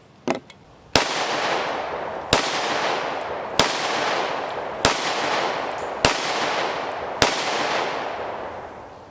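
Six sharp 10mm pistol shots from a Smith & Wesson M&P 2.0 Performance Center, loaded with hot rounds including Fiocchi jacketed hollow points, fired outdoors at a steady pace of about one every 1.3 seconds, each crack trailing into a long echoing decay.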